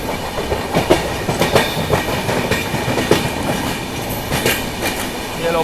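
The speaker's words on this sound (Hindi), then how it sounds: "सबको ओवरटेक मारेगी अपनी पश्चिम सुपरफास्ट।" The Paschim Superfast Express rolls fast through Mumbai beside local trains, steady loud rumble with rhythmic clickety-clack of wheels over rail joints throughout.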